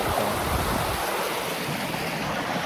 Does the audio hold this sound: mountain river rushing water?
yes